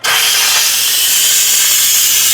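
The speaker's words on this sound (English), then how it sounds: "so let's release the pressure" An Instant Pot vents its pressure after cooking applesauce, a loud, steady blast of hissing steam that starts abruptly and continues unbroken up close.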